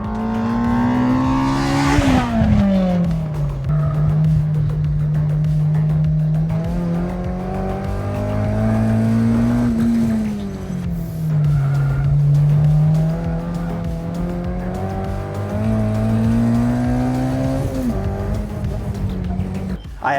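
A K-swapped NC Miata race car laps a track, its engine climbing and falling steadily through the gears with sustained high revs, loud and close throughout, with a brief tire squeal early on.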